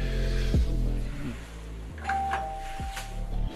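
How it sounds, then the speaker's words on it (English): A doorbell chimes loudly indoors, its ding-dong tones ringing out in clear repeated strikes with no talk over them. "The doorbell"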